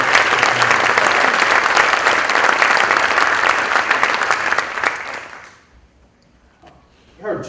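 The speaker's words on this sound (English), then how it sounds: "let's give another round of applause for the" Applause from a university convocation audience, a loud, dense wash of clapping for about five seconds that fades into near silence, followed by a faint stir of movement at the end.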